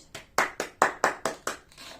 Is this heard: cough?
no